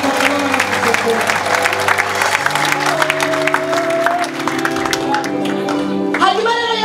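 A church congregation claps steadily along with loud singing and music, the clapping a dense, continuous patter blended under voices and sustained tones throughout.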